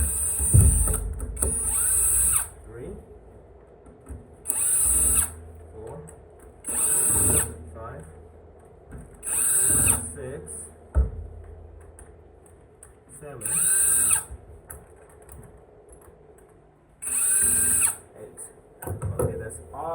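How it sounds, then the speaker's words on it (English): A power drill undoes the screws on the front and rear boxes of a Floatwheel ADV2 board in repeated short, high-pitched whirring bursts, about eight in all, with quiet handling and clicks between them. "that's all eight screws undo from the front box and the rear box"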